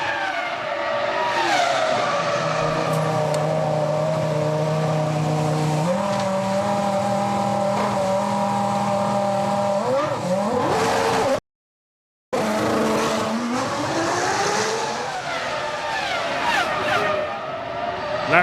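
Formula 1 engines in F1 2005 at the Australian Grand Prix, a loud, high-pitched whine that holds steady, then sweeps up and down through gear changes with a brief cutout midway and tire squeal.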